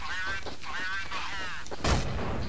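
A grenade bursts in Counter-Strike: Source as a sudden loud boom near the end, following a stretch of gameplay sounds with a tonal, wavering ringing.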